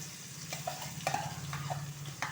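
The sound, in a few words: mixing chutney into oil tempering in a pan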